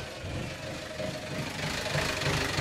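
A small Yanmar diesel engine on a 46ft project boat runs at a steady idle, a low, even knocking rumble heard close by and moderately quiet, with no talk.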